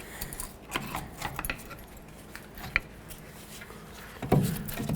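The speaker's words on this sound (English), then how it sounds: "and remove your caliper" A brake caliper comes off the front of a 2007-14 Chevy Silverado with metallic clinks and scrapes, a sharp tap midway and a heavier clunk near the end, close and moderately loud.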